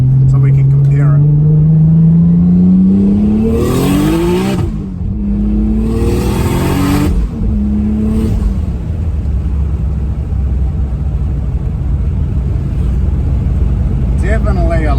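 Nissan S15 Silvia engine revving hard through upshifts without flat shifting, rising whine climbing then dropping at each gear change, a few shifts in the first half, followed by steady loud drive rumble and wind noise.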